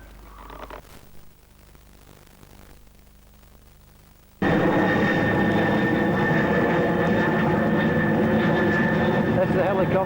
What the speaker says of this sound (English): That's the helicopter working on the sky rail thing.